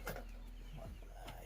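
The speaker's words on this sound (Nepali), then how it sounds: "कुखुरा चाहिँ जोड रहेछ यहाँनिर।" Chickens clucking nearby at a village home, soft short clucks and calls over a faint low background hum.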